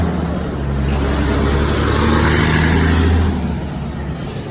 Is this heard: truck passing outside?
yes